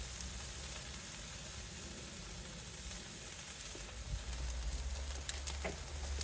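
Ribeye steaks laid on a hot Weber Summit Kamado grill, giving a steady close sizzle and hiss with occasional pops and crackles.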